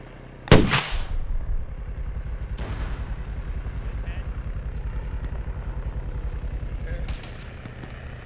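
Metis anti-tank missile launch in a military video game: a sharp loud blast followed by a rushing roar and a second thump, then sustained rumbling with radio chatter from players.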